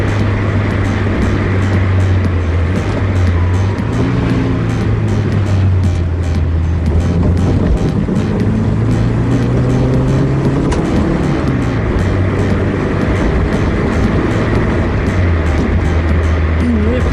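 A 1968 BMW 2002 engine running through a downshifting session, a loud, steady drone that dips and rises in pitch as revs change, heard close with constant road noise.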